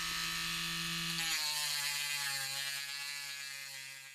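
A TACKLIFE rotary hobby tool sands a plastic panel at higher power, its high whining motor holding a steady buzzing tone that shifts slightly in pitch as the bit bites, loud and close, alone with no talk.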